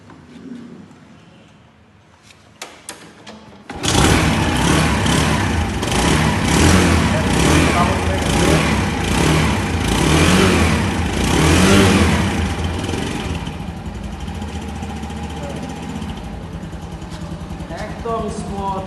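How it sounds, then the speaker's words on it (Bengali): A Runner Sky 110cc scooter engine starts after a few clicks, then idles and revs loudly and steadily up close, with faint talk near the end. "একদম স্মুথ সাউন্ড বাইকের, ফুল ফ্রেশ"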